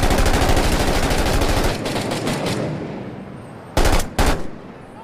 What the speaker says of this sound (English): I don't know. I was just shooting. I was just shooting back.